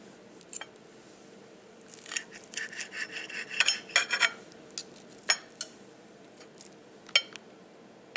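Knife and fork cutting into tender smothered cube steak on a plate with onions, white rice and green beans: soft scraping and scratching strokes with clinks of cutlery, close and fairly quiet, no talking.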